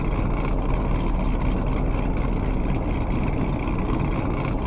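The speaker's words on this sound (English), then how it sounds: "And listen to that idle." A 2013 Chevrolet Camaro with a V8 engine idles close by, a deep, steady rumbling burble with a dense low-end throb that holds an even level for several seconds without revving.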